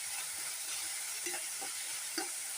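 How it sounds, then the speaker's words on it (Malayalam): Ginger garlic paste sautéing in a pan with onions, giving a steady soft sizzle with a few faint stirring scrapes, no voices. "അതിൽ തന്നെ 1 സ്പൂണ് ജിഞ്ചർ ഗാർലിക് പേസ്റ്റ്, അതും കൂടെ ചേർത്ത് വഴറ്റാം."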